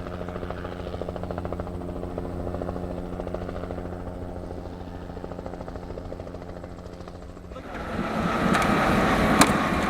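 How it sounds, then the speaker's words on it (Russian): A helicopter arrives in the morning at a remote salmon fishing site, its rotor thumping steadily in the distance for several seconds before the noise swells louder and closer with a harsh, broadband rush. "Ну, а потом уже утром прилетел вертолет"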